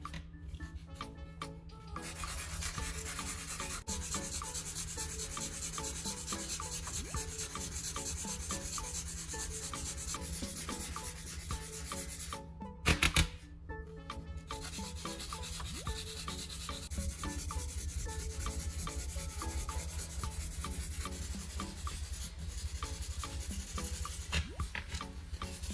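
P240 sandpaper rubs back and forth over a repaired broken plastic part in a steady, dense scratching. The sound is close and continuous with one brief pause midway.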